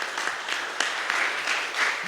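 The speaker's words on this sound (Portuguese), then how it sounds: "Dê uma salva de palmas ao nosso Deus." Worshippers at a Brazilian Portuguese church service clap together in praise, sustained applause rising and falling slightly in waves over about two seconds, heard close and alone.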